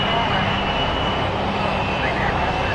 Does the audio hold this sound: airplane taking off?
yes